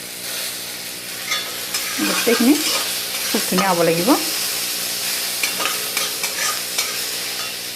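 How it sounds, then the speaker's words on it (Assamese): Tomatoes fry in a pan while being stirred during cooking of a rohu fish dish with black sesame, giving a continuous loud sizzle with scraping stir strokes, and someone speaks briefly partway through. "বিলাহীখিনি ভাজি ল'ম।"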